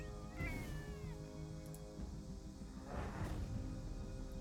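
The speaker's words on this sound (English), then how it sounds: "Fireball my cat" A pet cat named Fireball meows a few times over steady background music and game sound, the cries rising and falling in pitch at moderate loudness.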